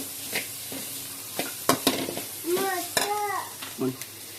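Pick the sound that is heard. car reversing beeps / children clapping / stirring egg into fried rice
stirring egg into fried rice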